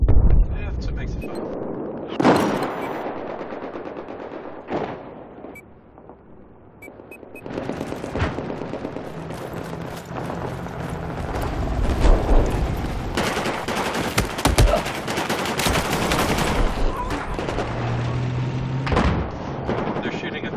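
Gunfire and explosions rage in a Battlefield 4 Conquest match on the Siege of Shanghai map, with repeated loud bursts and heavy booms spread across the scene while a player shouts and talks over the combat.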